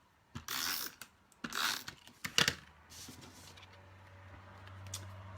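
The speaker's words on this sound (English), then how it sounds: "I'm going to do the snail and see if you can hear the difference." Snail adhesive tape runner applied during a paper craft session: a few short, dry ratcheting rasps in separate bursts, then a soft clicking mechanical whir trailing into a faint low hum, close and quiet with no talking.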